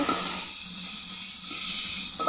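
Dried fish (shutki) fries in a pan, giving a steady, close sizzle and hiss with faint stirring and no talking.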